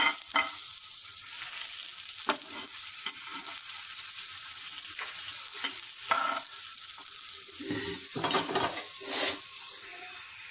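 A masala chapati flipped onto a hot pan fries with a gentle sizzle, broken by scraping and pressing sounds from a spatula and an occasional metallic tap, close by with no talk.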